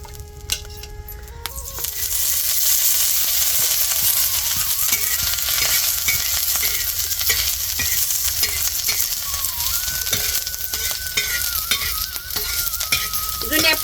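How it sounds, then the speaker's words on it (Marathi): Dried red chilies and garlic frying in a little oil in a pan: after a brief quiet start, a loud, dense, continuous close sizzle with stirring scrapes runs to the end, with no talk. "धनी मिरच्या एक लसूण तळून घ्यायचा आता थोडंसं तेल टाकी ती"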